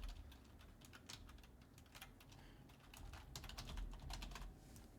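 Typing on a computer keyboard: quick, quiet, irregular key clicks close by, in short bursts with no talking.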